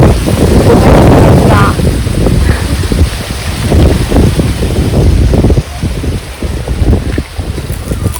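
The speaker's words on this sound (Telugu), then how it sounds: "గాలి ఎక్కువ వస్తుంది" Strong wind buffets the microphone in a banana plantation, a loud continuous low roar with gusting surges throughout.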